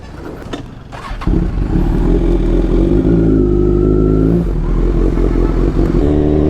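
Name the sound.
Kawasaki Z1000 motorcycle riding and revving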